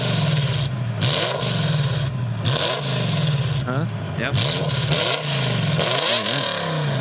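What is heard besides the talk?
V10 Formula 1 car exhaust revving, played recording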